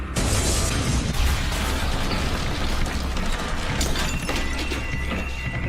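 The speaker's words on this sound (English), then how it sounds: "We hear another explosion." A loud, sustained roaring explosion at the World Trade Center on 9/11, heard from the 30th floor, with a dense, rumbling wash of noise that continues without pause, heavy low-end thunder throughout.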